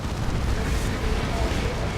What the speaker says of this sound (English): Orbital bombardment on this VP.